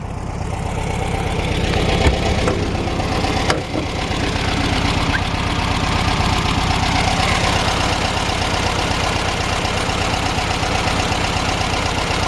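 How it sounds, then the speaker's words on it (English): A 1970 VW Bus air-cooled engine idles steadily and loudly up close, a rough continuous rumble with a faint clatter running throughout. "let me let you hear the engine"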